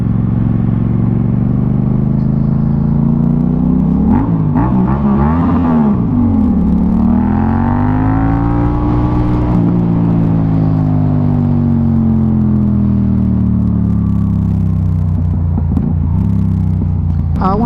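Motorcycle engine revving inside a tunnel, loud and close, with pitch rising and falling through several revs over a constant droning rumble and echo.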